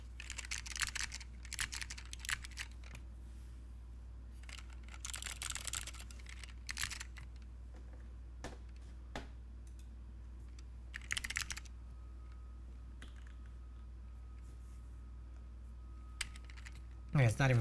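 Short bursts of clacky keystrokes on a mechanical keyboard with Zealio switches and a rattly spacebar, close-up, separated by quiet pauses, with a brief thump near the end.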